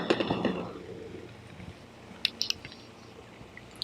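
Close, soft crunching and chewing of steamed vegetables dipped in sauce, with a few brief bites early and scattered crisp clicks later, quiet and without talk.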